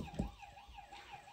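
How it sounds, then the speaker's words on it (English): A Bruder toy fire engine sounds its electronic siren, a faint, steady wailing tone rising and falling in quick regular sweeps, with a soft knock at the start. "What's the siren sound like?"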